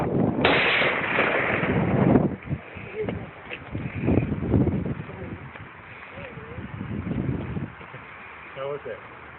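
A rifle fires once outdoors as a single sharp blast near the start, followed by people talking nearby over light wind.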